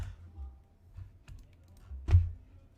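Computer keyboard keys pressed during gaming, a few soft clicks and taps spaced unevenly, ending in one sharper, louder keystroke.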